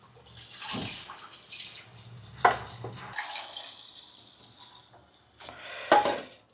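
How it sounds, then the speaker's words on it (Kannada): Cold tap water gushes and splashes into a pot of just-boiled eggs, a steady running stream with a couple of louder sloshes and clinks near the start and end. "ಅದಾದ ತಕ್ಷಣ ಇಮ್ಮಿಡಿಯೇಟಾಗಿ ಕೋಲ್ಡ್ ವಾಟರ್, ತಣ್ಣೀರು ಹಾಕಿ"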